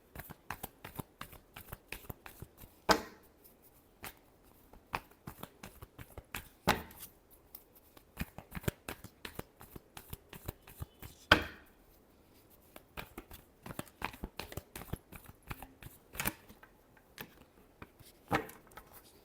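Playing cards shuffled by hand during a tarot-style reading, a long run of soft, fast riffling ticks and flicks with a few louder slaps, close and quiet, with no talk.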